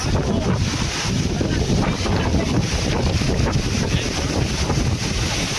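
Strong, continuous typhoon wind in Pangasinan, Philippines roars and buffets the microphone, with dense rushing noise throughout and no clear pauses.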